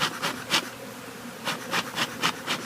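Honey bees swarming in a house bay window make a steady close buzz, with repeated louder swells as individual bees fly past near the recorder; no talking.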